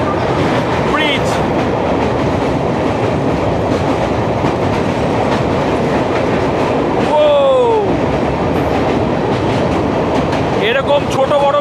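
A passenger train on the Kolkata to Mizoram route rumbles steadily over a small bridge, with continuous wheel and carriage roar, a brief metallic squeal midway and faint voices in the background.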